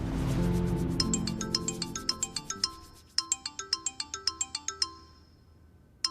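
A phone ringtone plays a bright, repeating chime melody, fairly soft and close, looping through a couple of phrases before stopping.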